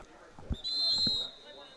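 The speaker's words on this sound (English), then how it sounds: "Got a whistle." A referee's whistle sounds at a high school football game between Tri-County and Newman Catholic, a short shrill blast at moderate distance amid crowd noise and light thumps.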